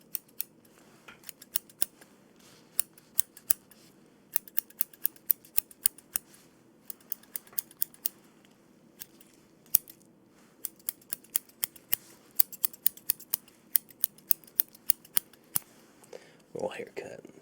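Scissors snip steadily near the microphone in an ASMR haircut roleplay, crisp repeated cuts in loose rhythm with brief pauses throughout, close and fairly quiet, with a soft rustle near the end.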